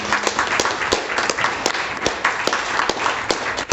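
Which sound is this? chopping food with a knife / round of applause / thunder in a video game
round of applause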